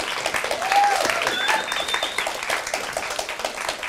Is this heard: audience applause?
yes